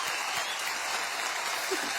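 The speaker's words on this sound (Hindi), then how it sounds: "सुपर्ब, जोरदार तालियां हो जाएं।" Audience applause fills the room at a live stage show, a steady, dense patter of clapping at moderate level, continuous through the short stretch with no voices standing out.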